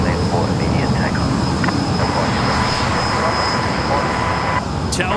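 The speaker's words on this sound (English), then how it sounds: "Runway 34, that's clear for immediate takeoff." An airplane taking off from runway 34 at Sydney Airport, a loud, steady broadband roar that holds for the whole stretch, with a faint voice underneath.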